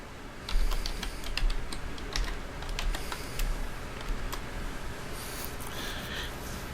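A password being typed on a Mac keyboard, a steady run of close, crisp key taps over a constant background hiss.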